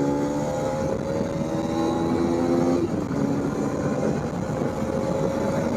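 A Hero Xpulse 210 adventure motorcycle accelerating hard in fourth gear, its steady engine drone rising in pitch over heavy wind rush, loud and continuous throughout.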